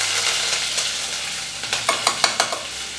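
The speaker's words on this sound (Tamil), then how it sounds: "கருவேப்பிலை, இது சேர்த்துட்டு வதக்கணும்" Onion, green chilli, garlic and curry leaves sautéing in hot oil, a continuous sizzle broken by a run of rhythmic spatula taps against the pan toward the end.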